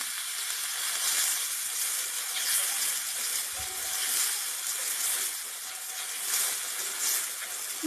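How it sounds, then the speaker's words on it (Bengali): Water poured into spice paste frying in a pan for rohu fish curry with papaya raises a steady, close, hissing sizzle of steam that holds at an even level throughout. "একটুখানি জল দিয়ে দিলাম।"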